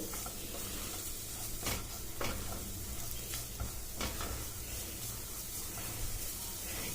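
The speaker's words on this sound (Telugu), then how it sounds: "క్యారెట్ వేగిన తర్వాత ఇలా కలుపుతూ ఉండాలి, లేకపోతే అడగంటిపోయి మాడిపోతుంది." Carrots frying in ghee in a pan, a steady soft sizzle with occasional scrapes of a spoon stirring, faint and continuous.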